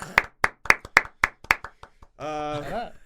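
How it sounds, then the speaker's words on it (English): A few people clap in a short, loose run of sharp claps to welcome a guest, close and fairly loud, then a voice speaks right after. "We gave you a round of applause"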